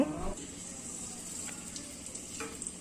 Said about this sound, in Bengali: এই ব্যাটারে ডুবিয়ে কাঁটা চামচ দিয়ে ডুবিয়ে এবার তেলের মধ্যে ছেড়ে দেব